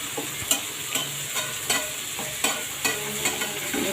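Taro stolons frying in oil in a pan, a steady sizzle broken by regular scraping taps of a spoon stirring, close and moderately loud with no talk.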